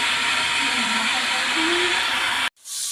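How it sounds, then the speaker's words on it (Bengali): Fish rubbed with salt and turmeric fries in hot oil with a loud, continuous hiss that cuts out briefly near the end, while a faint voice sits beneath it. "এই যে মাছ ভাজা শুরু করলাম, তেলের উপর দিয়ে দিলাম, মাছটা ভাজা হোক।"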